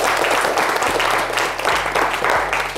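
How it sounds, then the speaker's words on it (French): Studio audience applause on a French-language talk show, a dense steady wash of clapping sustained throughout over a low hum and faint background tones. "Applaudissements"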